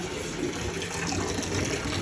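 Shower water running steadily in a hotel bathroom, a dense continuous rush of spray with no voices, close and fairly loud throughout.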